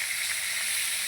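Onions frying in a pan for a nonveg feast, a bright continuous hissing sizzle, close and steady, with no talking.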